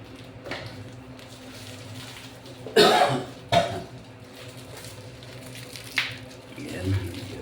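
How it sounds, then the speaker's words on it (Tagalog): Two short, sharp coughs sound close by in the middle of a kitchen cooking session, with quieter background noise around them. "ubo tayo mga idol"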